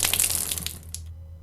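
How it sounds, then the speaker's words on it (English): Water gushes and drains out through an opened valve in the game The Last Door, a close, steady splashing rush that thins out and falls silent after about a second. "When I open the valve, I will drain the water until all of the water has been removed."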